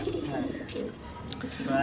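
Madrasi tournament pigeons at a Dum Dum seller's loft give soft, low cooing, with chatter and voices running over the birds the whole time.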